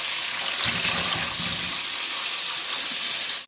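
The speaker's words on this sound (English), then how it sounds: "I'm just going to run some cold water on the side" Cold tap water runs loudly and steadily into a kitchen sink while cooked potatoes are drained in a colander, a continuous rushing stream with a brief lower pouring surge partway through and no talking.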